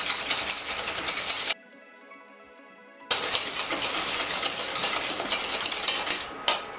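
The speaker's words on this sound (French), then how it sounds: "nous battons les jaunes avec le sucre" Egg yolks and sugar beaten in a bowl with a whisk, a fast, bright metallic clatter of wire against the bowl, pausing briefly silent in the middle, then resuming vigorously until a short stop near the end.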